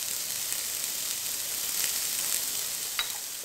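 Onions for a paneer sandwich frying in a pan until golden give off a steady, bright sizzle with a few faint crackles, close and unbroken, with no voices.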